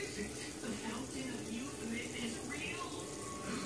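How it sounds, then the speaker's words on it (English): Crabmeat ravioli going into a pot of boiling water on a kitchen stove, giving a steady bubbling, sloshing wash of water noise that runs continuously at moderate loudness with no one speaking. "Off into the water they go."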